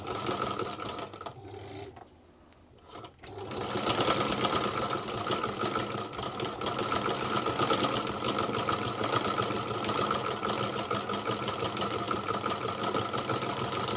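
Electric Singer sewing machine with a buttonhole attachment running close up, a loud continuous mechanical whir and rapid needle chatter, briefly pausing near the start and then running steadily to the end.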